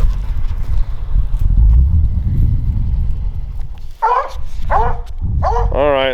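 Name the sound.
coon hunting hounds barking on a trail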